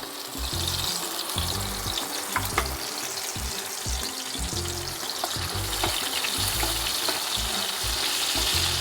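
Tomato paste frying in hot oil in a pan while cooking a Bengali jackfruit-seed dhoka dalna, a steady loud sizzle with bubbling crackle throughout, no voices.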